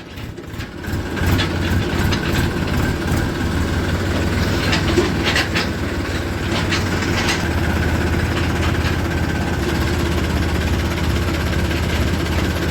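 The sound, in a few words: Ford tractor driving in second gear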